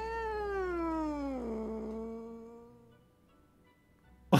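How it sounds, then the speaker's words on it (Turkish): A cat meows in the video game Death and Taxes: one long, drawn-out meow that falls in pitch and then fades to quiet, with a short sharp noise right at the end. "Miyavladıktan sonra"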